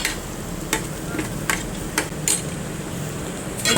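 Whole small shallots and sliced onions fry in oil for a Kottayam-style pork curry, giving a steady sizzle broken by several sharp clicks of a utensil against the pan.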